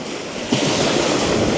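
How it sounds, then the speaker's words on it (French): Lively Mediterranean sea with waves churning and a headwind, a steady broadband wash of surf and wind noise on the microphone, loud and continuous with a surge partway through. "Petit vent de face. Une mer bien vivante."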